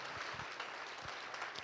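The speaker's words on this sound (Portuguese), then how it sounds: "Vamos aplaudir Jesus" Church congregation applauding, a quiet, distant patter of scattered clapping from a crowd, soft and brief.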